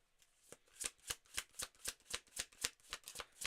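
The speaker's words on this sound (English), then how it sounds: "Just shuffling a deck that seems to be very active even when I'm not asking questions." A tarot card deck being shuffled close up, a quick series of about a dozen crisp, evenly spaced riffling snaps that build after a soft start, with no voices over them.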